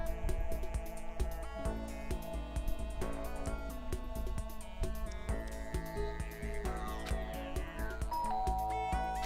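A doorbell chimes in a video game, bright tonal ding-dong notes ringing out over light game music, moderately loud and without speech.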